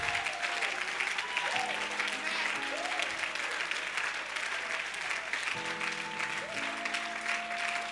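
A congregation applauding steadily through a French-language worship service, dense sustained clapping throughout while sustained organ or keyboard chords sound underneath.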